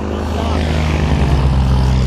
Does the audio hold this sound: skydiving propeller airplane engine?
yes